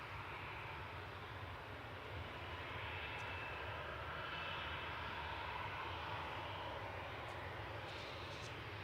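A Jet2 airliner, flight 891 operated by ETF Airways, departs Manchester Airport for Lanzarote, its engines producing a steady, broad roar that holds at a constant level throughout, heard from a distance without speech.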